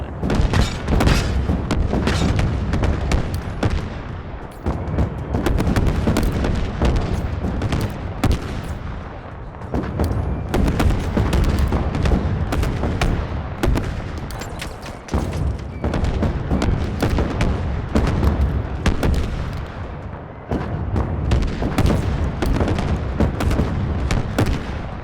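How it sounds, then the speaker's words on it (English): Repeated heavy explosions and booming blasts from an airstrike in the Halo Infinite video game, loud and dense, rolling continuously with only short gaps. "And that's it for the airstrike."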